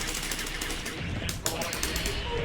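Rapid bursts of video game gunfire, crackling automatic shots fired in a fighting-game exchange, loud and continuous with a sharp spike midway.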